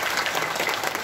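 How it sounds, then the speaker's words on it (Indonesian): Audience applause for a speaker at a Muhammadiyah Hajj gathering in Makkah, a short, dense burst of many hands clapping together at steady volume. "Tepuk tangan untuk beliau."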